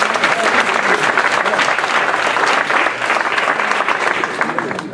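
A church congregation applauds loudly and continuously at a Sunday service, a dense sustained wash of clapping with faint voices mixed in.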